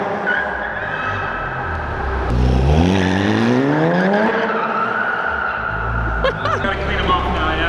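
A wide-body Porsche spins donuts inside a mall, tires squealing loudly in long rising and falling sweeps over a revving engine, with people talking and exclaiming alongside.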